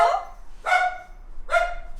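A dog wakes from a nap and barks indoors, giving three sharp, loud barks spaced about three-quarters of a second apart, close to the microphone with no talk over them.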